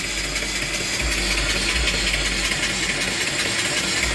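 A running mill steam engine drives an alternator through a V-belt pulley at about 100 RPM, a steady, dense mechanical rumble and hiss that stays even throughout with no talking.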